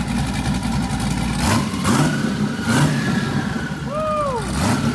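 A twin-turbo Camaro fitted with new 2000cc fuel injectors revs loudly up close, with repeated throttle blips rising and falling over a steady rumbling idle and turbo whistles sweeping upward near the end.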